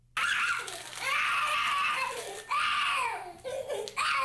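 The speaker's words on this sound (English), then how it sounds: "Except for screaming during his temper tantrums, he was completely nonverbal." Toddler of about two and a half screaming during a temper tantrum: loud, close, shrill wails in several long bursts with brief gasping breaks between them.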